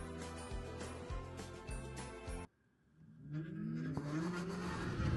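A 2024 Zero SR electric motorcycle is loud at first, then drops to near silence and builds again with a rising motor whine and wind rush as it pulls away at full throttle on a test ride.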